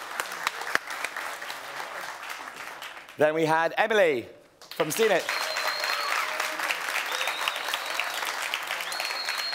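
Startup pitch audience in London applauding in a sustained, even wash of clapping that continues while a host speaks over it through the middle, then resumes without a break.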